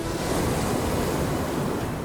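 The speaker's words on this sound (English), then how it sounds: "the Mayflower encounters a ferocious storm in the North Sea" Loud, continuous roar of wind and crashing sea waves in a ferocious North Sea storm, a dense, unbroken wash of noise.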